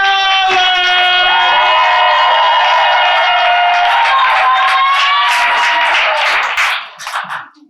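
An audience at a youth poetry slam claps and cheers in a loud, dense burst with high whoops over the applause, fading out at the end.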